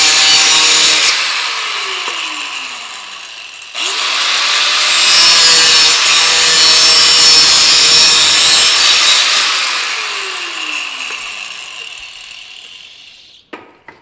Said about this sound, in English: So I'm just gonna cut it. It cuts real easy with the cutoff.